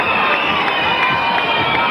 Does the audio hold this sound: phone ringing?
no